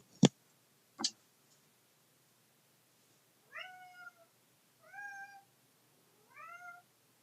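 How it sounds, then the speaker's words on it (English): A house cat meows three times, each call short and clear and a second or so apart, after two sharp ticks or clicks at the start in an otherwise quiet room. "my cat was demanding things of me"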